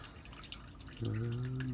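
Engine coolant drips and trickles close by during a water pump change on a Chevrolet Trailblazer 4.2L: a few quiet drops, then a steadier, louder trickle that keeps going.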